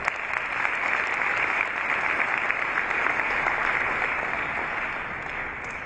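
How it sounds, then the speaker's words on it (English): Audience at a youth convention claps continuously, a dense, even wash of many hands close and loud that holds steady for several seconds before easing slightly. "Thank you, guys. Give my hand clap."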